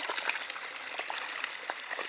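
Water gushes directly into a field irrigation canal, a steady, close rushing hiss with small splashing pulses throughout.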